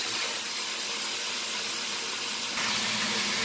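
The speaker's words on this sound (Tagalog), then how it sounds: "Sinosote po or ginigisa ang sibuyas kasama ang mga sangkap, particular po ang baboy ang or ang pork." Onion and pork sautéing in a pot for pork sinigang, a steady sizzling hiss that holds throughout and grows slightly louder near the end, with no talking.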